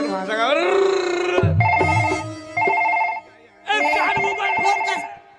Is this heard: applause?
no